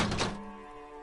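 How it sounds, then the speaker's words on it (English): Kicking a dented, bullet-holed yellow mailbox in a video game: one close, heavy thunk with a hollow metallic ring that hangs briefly and fades within a second. "There is a hollow, saddened ring as you kick"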